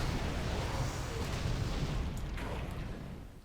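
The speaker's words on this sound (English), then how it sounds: "Get wrecked! Ion cannon, go!" Heavy roaring blast of an ion cannon firing in World of Warcraft, a dense rumbling barrage sustained for several seconds before tapering off, loud and without talk over it.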